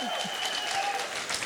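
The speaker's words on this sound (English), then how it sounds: "You don't have to clap after absolutely everything I say," Brief burst of clapping from an audience at a conference closing ceremony, a dense, even patter of many hands with a faint murmur of the crowd beneath it.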